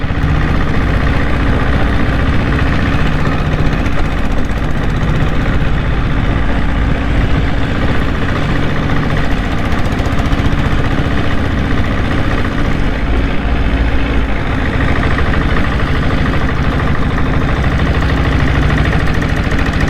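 A 6.5 or 7.5 HP diesel Bullet motorcycle engine runs steadily throughout, a loud, continuous low chugging drone with no talk over it.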